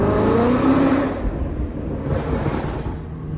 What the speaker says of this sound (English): Do a little tunnel rip for y'all real quick.